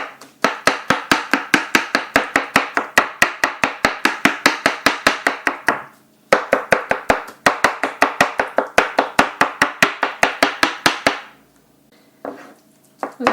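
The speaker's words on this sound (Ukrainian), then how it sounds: "Бачите, ми подрібнили баклажан на ікру." A knife chops eggplant for Odesa-style eggplant caviar on a board in fast, even rhythmic strokes, two long bursts of dozens of sharp close taps separated by a brief pause, with no talk.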